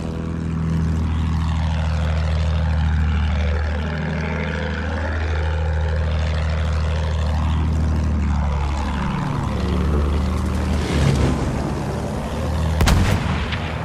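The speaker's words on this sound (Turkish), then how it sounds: "Bir düşman bombardıman tayyaresi görüldü." A bomber aircraft in the Battlefield 1 video game drones with a steady, loud propeller engine hum. Heavy artillery and gunfire bursts take over in the second half, with a sharp blast near the end.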